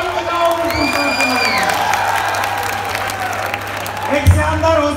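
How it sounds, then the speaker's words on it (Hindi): An auditorium audience at a comedy show claps loudly, a dense burst of applause with cheers, whoops and shouting voices mixed in. "जोरदार ताली बजाओ"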